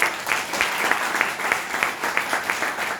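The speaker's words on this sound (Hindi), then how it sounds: "एक बार उनके लिए भी जोरदार तालियां।" Seminar audience in Waidhan, Singrauli bursting into loud, sustained applause for a guest, dense clapping with rhythmic surges continuing throughout.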